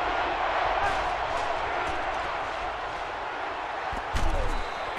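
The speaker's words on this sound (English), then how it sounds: "the crowd is just going ballistic in support of their defense right here on 3rd and short" A huge football stadium crowd at USC versus Notre Dame roars steadily in support of the defense on third and short, a dense wall of cheering with a brief louder swell near the end.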